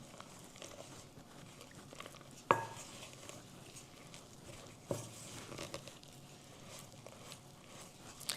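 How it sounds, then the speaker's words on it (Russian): A spoon scrapes and taps against a bowl while sourdough starter is stirred with added flour, soft, close clinks and knocks, with a couple of sharper hits against the rim. "Перемешаем."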